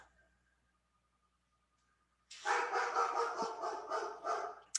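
A dog barks in a quick run of about seven loud yaps after a quiet room, close by and alone, ending with a sharp knock.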